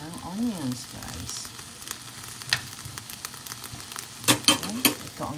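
Onions browning in a frying pan, a steady sizzle with intermittent scraping and stirring clatter from a utensil, plus a few sharp knocks against the pan.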